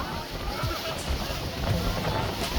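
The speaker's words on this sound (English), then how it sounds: "it was indeed windy here, coming from the sea and washing in the coast non-stop." Strong sea wind buffeting at the coast, a continuous broadband rush with gusty swells and waves washing in, loud and close throughout.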